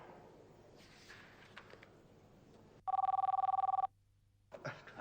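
A telephone rings with one sustained electronic trill lasting about a second, loud and near, set between quieter stretches of faint room noise and movement.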